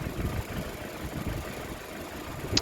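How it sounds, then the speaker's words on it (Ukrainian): A 2018 Jeep Compass engine idles steadily with a low, even rumble and faint knocking, with some wind noise and no talking. "От відео, на якому працює двигун"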